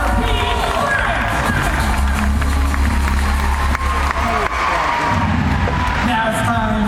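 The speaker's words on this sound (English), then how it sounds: "one more big round of applause from San Francisco, California, for Pete Lyrics!" A large crowd at an action sports show at Universal Studios in Orlando cheers and applauds loudly and continuously, with shouts mixed into the steady roar.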